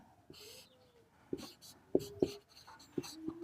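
An equation is written on a board, with faint scratching strokes and several sharp taps of the marker or chalk at an uneven pace, close up and quiet, with soft speech underneath.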